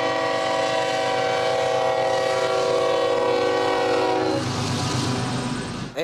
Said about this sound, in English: Train noise is a given when you live next to a railroad track, but the horns are a conversation stopper